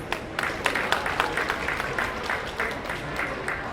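An audience at a COP30 energy event gives a steady round of applause welcoming Minister Bowen, moderately loud with distinct individual claps standing out above the crowd.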